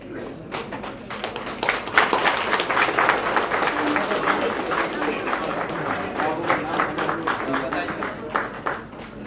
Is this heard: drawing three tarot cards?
no